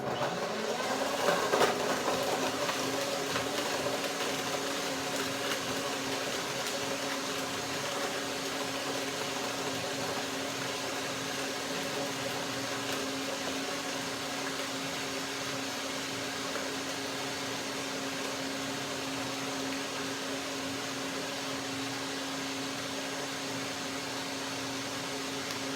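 A blender runs steadily and continuously, whirring through a cashew, banana and cherimoya smoothie with a little water, a close mechanical drone with a constant hum and a brief louder burst near the start.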